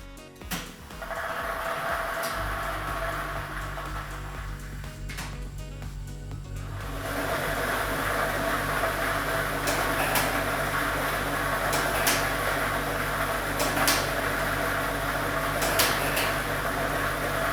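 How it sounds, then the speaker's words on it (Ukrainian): A lottery ball drawing machine starting up and running: after a few clicks and a rising start, a loud, steady mechanical whir with a constant hum and faint rattling tumble continues to the end, no voices. "І ми вмикаємо лототрон."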